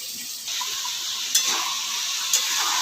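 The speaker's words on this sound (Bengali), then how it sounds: "মশলাটা দিয়ে আমি ভালো করে এবার কষবো যতক্ষণ না তেল ছাড়ে" Spice masala being stir-fried with carrots in hot oil for a rohu fish curry, a steady soft sizzle with a spatula scraping the pan and two brief sharper clinks against the metal; no voices.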